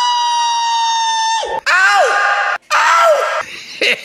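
A human voice imitating Pharaoh's scream, with loud, drawn-out wailing cries in three bursts separated by short breaks and a final brief yelp.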